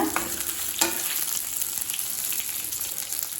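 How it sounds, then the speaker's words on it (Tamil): Small shallot-type onions sauté in a pan, a continuous close sizzle with a couple of sharp stirring scrapes near the start and no voices. "சின்ன வெங்காயத்தை நல்லா வதக்கியாச்சுங்க"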